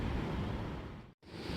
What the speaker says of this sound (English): I know I can see a little bit of that white surf